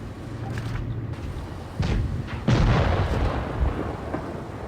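A World War II tank battle in a video game sets Japanese armor against US forces, heard as a low rumbling roar of distant blasts and a heavier boom swelling midway, with no voices over it.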